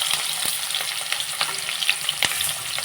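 Sliced onions and green chillies frying in hot oil in a pan with fenugreek and fennel, a close crackling sizzle punctuated by sharp spoon scrapes and clicks as they are stirred.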